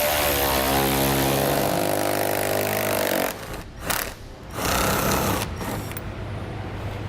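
A power driver with a 5/16 bit backs out the front panel screws on a 2003 Ford Explorer during a grille guard install: a steady high motor whine for about three seconds, then two short bursts with brief pauses between them.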